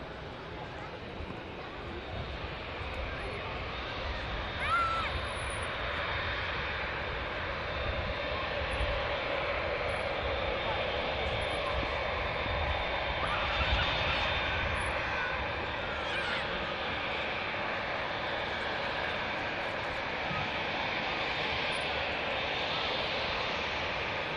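EasyJet airliner on final approach to land at Manchester Airport, a steady broadband engine roar held at a constant level throughout, mixed with wind noise and occasional faint voices in the background.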